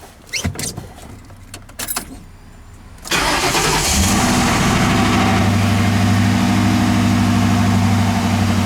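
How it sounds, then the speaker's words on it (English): Ford Crown Victoria engine cranks and catches at about three seconds after a few clicks and key rattles, then settles into a steady, loud idle hum for the rest of the clip. "Now let's start the car"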